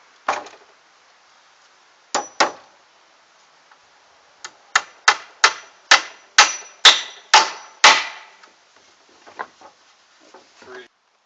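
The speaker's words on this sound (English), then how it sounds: "after we've nailed off the first side, top plate down to the wall studs" Hammer driving nails through a wooden top plate into wall studs during shed wall framing, sharp close strikes in a quick rhythmic run of about a dozen blows, with scattered lighter taps before and after.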